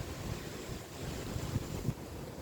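Steady outdoor wind rushing through leaves and buffeting the microphone, a continuous low roar with occasional gusts and no voices.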